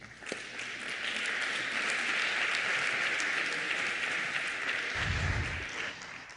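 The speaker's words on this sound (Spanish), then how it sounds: "Un aplauso" An audience claps to welcome a speaker at a science talk, an even, sustained patter of applause heard at moderate distance with no speech over it.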